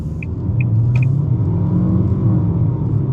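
A 2023 Nissan Altima accelerates onto a highway, its engine a steady mid-level rumble blended with road noise from inside the cabin. A few short faint chirps sound near the start.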